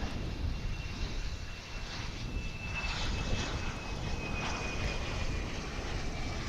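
An aircraft takes off at DFW airport, a steady distant engine roar with a faint high whine running throughout, moderately quiet and unbroken by talk.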